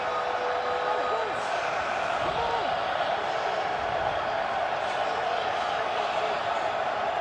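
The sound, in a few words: loud cheering football stadium crowd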